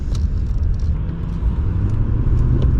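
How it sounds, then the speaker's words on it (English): A Lexus LS430 sedan with its 290-horsepower V8 accelerating hard, a loud, steady low engine rumble with road noise throughout and no talking. "we're going to push the 290 horsepower."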